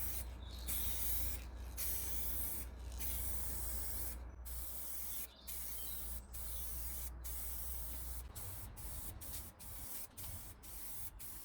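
Spray can laying a light colour coat onto a plastic car bump strip, a series of close hissing bursts separated by short pauses, growing quicker and choppier toward the end.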